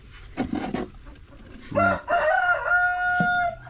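A rooster crows once, a loud, drawn-out call close by, preceded by a few short clucks, in a quiet farmyard with faint low background noise.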